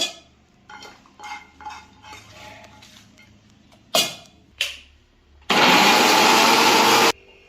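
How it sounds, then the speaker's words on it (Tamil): A mixer grinder grinds cooled masala for a Tamil crab curry, a loud steady whir running about a second and a half after some quieter kitchen clatter and clinks. "இப்போ நம்ம கொஞ்சம் ஆறிடுச்சு லைட்டா, இப்போ அரைச்சிக்கலாம்."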